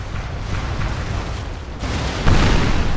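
Naval cannons fire during a Napoleon: Total War multiplayer sea battle, with a rumbling wash of gunfire building to two sharp booming reports near the end, loud and dense, with no talking.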